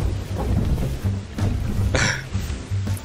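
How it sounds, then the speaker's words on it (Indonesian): Stormy sea ambience in the pirate game Sea of Thieves, with rain and low rumbling thunder rolling on steadily and a brief brighter splash or crack partway through, no talk. "Badai cuy kita terjang badai"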